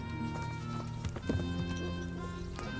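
Horse hooves clip-clopping at a walking pace while riding in the medieval video game Kingdom Come: Deliverance, quiet rhythmic hoof beats over steady background game sound.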